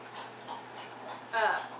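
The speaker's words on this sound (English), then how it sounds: "that's my dog." A pet dog whimpers and pants softly close by in a quiet room, a brief high whine rising near the end.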